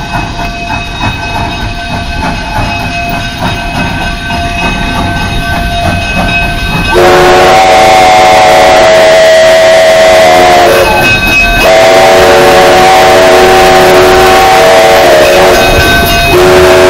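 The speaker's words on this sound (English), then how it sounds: "Come on, come on, we got train coming." A Durango and Silverton steam train passes at a railfest in 2013, its horn blaring loud and sustained over the rumble of rail cars, with a second horn blast near the end.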